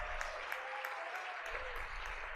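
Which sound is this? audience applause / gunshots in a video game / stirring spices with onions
audience applause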